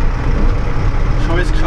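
A Unimog U300 diesel engine drones loud and near as it shifts gear climbing an incline, a steady low rumble with someone talking over it.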